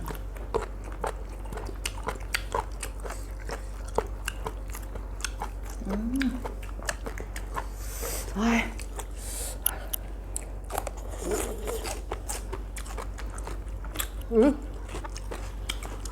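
Close, crunchy bites and chewing of spicy glass noodle squid salad with ice, repeated irregularly, with a person talking between mouthfuls.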